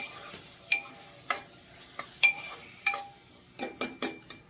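Close, sharp clinks and scrapes of a utensil stirring bottle gourd being tempered in a pan, in irregular bursts over a faint sizzle.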